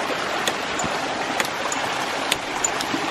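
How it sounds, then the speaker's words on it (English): Water tumbling down a small waterfall into a ram pump intake outdoors, a steady close rushing wash with a few faint splashy ticks and no voices. "Here's the ram pump intake flowing down this waterfall to the pump down here."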